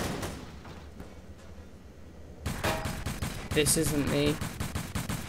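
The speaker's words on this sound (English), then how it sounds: "Why is he shooting me?" Bursts of rapid gunfire from a multiplayer shooter, starting as faint distant shots and then turning loud and close after a few seconds, with a voice talking over the shooting.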